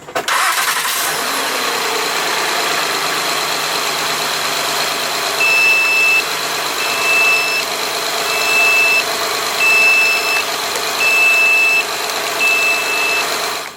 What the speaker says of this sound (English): I'm going to start my vehicle.